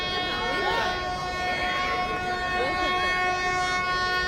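At Ooty station, the toy train's drawn-out whistle sounds in steady tones over a busy station background, with voices rising and falling underneath.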